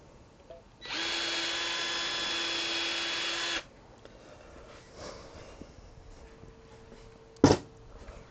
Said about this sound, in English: I'm surprised this drill bit's lasting this long.